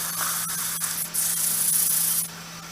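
Steady, hissing abrasive rubbing of sandpaper on carved wood, continuous for a few seconds, growing brighter and louder midway before easing back, over a faint low hum.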